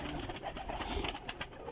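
Pigeons coo at a rooftop pigeon house in Kotli, Azad Kashmir, their soft repeated calls blending with a busy chorus of birds in a brief, steady stretch.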